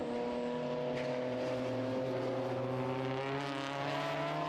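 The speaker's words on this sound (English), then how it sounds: "the TCR car putting roughly 200 or so brake horsepower through the front wheels" A front-wheel-drive TCR touring race car of about 200 brake horsepower drives around Circuit Zolder, its engine giving a steady, distant droning tone with gently shifting pitch and no talk over it.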